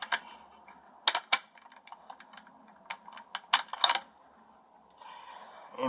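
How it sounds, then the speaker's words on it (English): Metallic clicks and ratcheting snaps as the bolt is drawn out of a Swiss 1896/1911 Schmidt-Rubin rifle, several sharp close clacks spread irregularly among quieter handling noises, with no talking. "We're going to take this bolt out."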